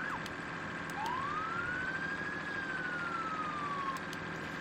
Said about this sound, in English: You guys can see a variety of sirens there